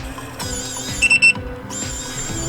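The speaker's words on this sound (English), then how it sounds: "a short quick beep will confirm entering the program mode" An RV keyless power door lock gives a short quick beep as it enters program mode. Two or three brief high tones sound close by over a steady tonal background hum.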